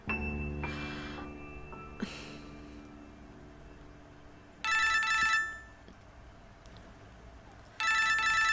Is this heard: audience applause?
no